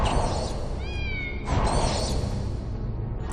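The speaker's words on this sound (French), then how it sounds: "Nous l'entendons miauler, ça veut dire qu'il est là." A cat meows in a Harry Potter video game, with two drawn-out, wavering meows in a row, clear and fairly close over steady background game sound.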